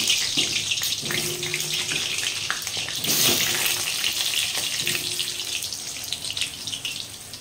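Chicken fries in a pan with tomato, capsicum and onion on a gas stove, giving a continuous bright sizzle and crackle with occasional stirring clatter, fairly loud and close, and no talking.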